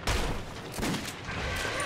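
Gunfire in Metro 2033 comes as a dense burst of loud, close shots with sharp repeated cracks over less than two seconds, with no talk.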